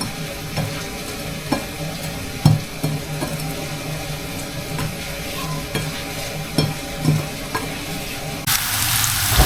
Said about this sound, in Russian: Лук жарится.